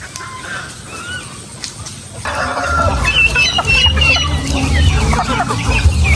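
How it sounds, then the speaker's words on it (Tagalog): Hens cluck on a farm, soft and scattered at first, then a denser, louder flock chatters close by with overlapping calls. "So may mga inahing manok din dyan."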